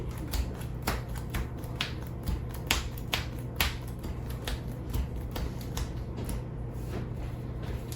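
Playing cards are shuffled by hand during a solo game of the racing board game Heat, a run of quick, close snapping riffles and flicks repeating across the whole stretch without any talk.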